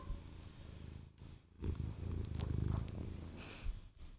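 A cat purrs up close in a low, rhythmic rumble that swells and fades with each breath, fairly quiet.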